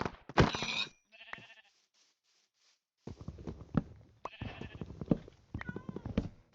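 Several bleating sheep calls in Minecraft in short bursts with gaps of silence, fairly close and clear, some overlapping into a noisy cluster.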